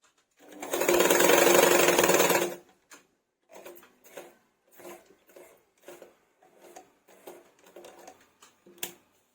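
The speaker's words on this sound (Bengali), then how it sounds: "এই সাইডটা ওইভাবে কাপড় মুড়িয়ে সেলাই দিয়ে নিচ্ছি" A sewing machine stitches the folded edge of fabric while sewing a bolster pillow cover made from old cloth. A loud, steady run of stitching lasts about two seconds, followed by a string of faint clicks and handling noises.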